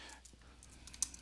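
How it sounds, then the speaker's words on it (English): Someone types a name on a computer keyboard, a quiet run of light, irregular key clicks with one sharper tap near the end and no talking. "I'm just going to start typing"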